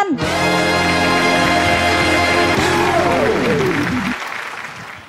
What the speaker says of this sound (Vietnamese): một tràng vỗ tay thật lớn để dành tặng cho tất cả những ca sĩ, diễn viên của đại gia tộc Nguyễn Văn